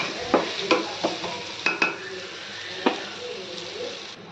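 A spoon scrapes and clinks against a pan several times at irregular intervals while potato pieces in tempering sizzle softly underneath.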